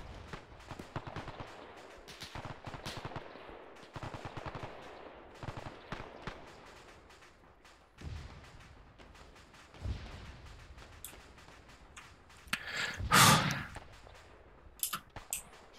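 Gunfire in the World War II shooter Task Force Athena during the Battle of Tarawa: scattered rifle and machine-gun shots crackling at varying distances, with a louder burst of close fire near the end, no talking.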